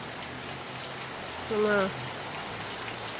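Steady monsoon rain falls in Kerala as a continuous broadband hiss, with a brief spoken word heard over it partway through.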